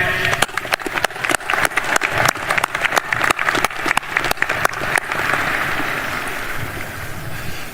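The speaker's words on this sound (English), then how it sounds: "a round of applause to our guests" An outdoor crowd applauds at the US Air Force Academy 2025 commencement: loud, sustained clapping cut by sharp gusts and knocks of wind on the microphone, easing into a broad rushing wash toward the end.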